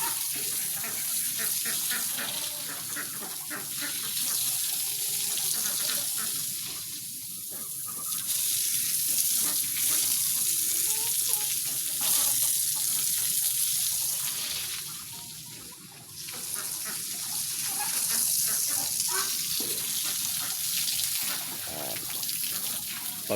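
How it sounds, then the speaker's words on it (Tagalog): Dirty water being poured out of a poultry feeding and watering setup, a continuous splashing gush with some surging, close by, with a few faint voices in the background. "Pag marumi na yung tubig, itatapon."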